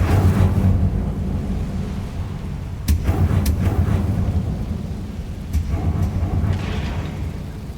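A fire spell cast in the video game Hogwarts Legacy: a continuous low, rumbling roar of flame with a few sharp crackling bursts, loud and close, with no talk.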